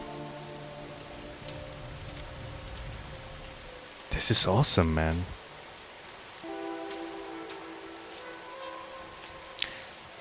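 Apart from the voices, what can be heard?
rain falling on a planet in video game No Man's Sky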